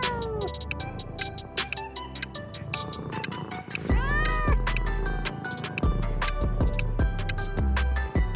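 Several cats meow and yowl repeatedly, loud drawn-out calls overlapping one another at close range against a steady background hum.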